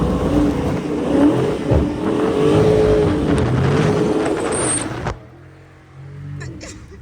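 A Dodge Scat Pack car accelerates hard with its rear kicking out, a loud sustained engine roar that cuts off abruptly near the end, leaving quieter rumbling.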